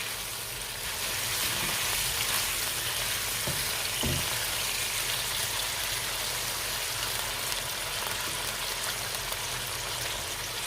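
Fresh garlic stirred into chicken karahi frying in a pan, a steady close sizzle with a few brief scraping stirs early on, continuing unbroken without talk.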